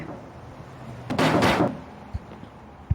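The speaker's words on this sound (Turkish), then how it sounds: "Asansör mü gidiyor? Asansör gidiyor." Hotel elevator doors sliding and thudding shut, a loud rushing swell lasting about half a second, followed by a few soft knocks and bumps in a quiet hallway.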